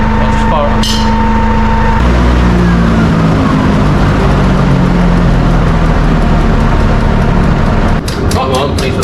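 A Teagle build's engine starts up and revs, a loud, steady mechanical drone that rises in pitch after a couple of seconds and holds close and strong throughout.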